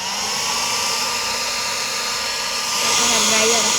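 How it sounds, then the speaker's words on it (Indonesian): A hair dryer blows steadily and loudly at close range for the whole stretch, a constant whooshing roar that grows slightly stronger near the end, with no talk over it. "Hair dryer."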